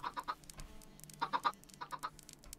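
Minecraft chickens cluck in short, soft bursts of two or three, with a pause between groups and no voices over them.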